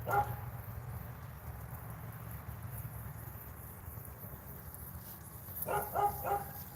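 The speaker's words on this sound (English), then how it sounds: "dog's barking." A dog barks a few times in the distance toward the end, short muffled woofs over a steady low background hum.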